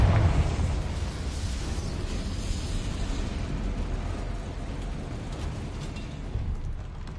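Confringo fire spell blast in Hogwarts Legacy on PS5, a loud explosive burst at the start that trails into a sustained rumbling roar across the whole stretch.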